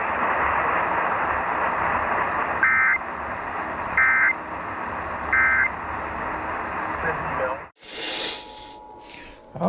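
Emergency Alert System test tones play as three short, evenly spaced beeps over a steady broadcast background, then cut off abruptly into a brief burst of other sound.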